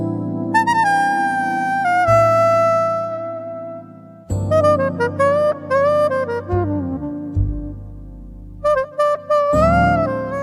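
An AI-generated music sample from Udio plays alone and loud: a melodic line with sustained tonal chords that shift between sections and drop briefly in places.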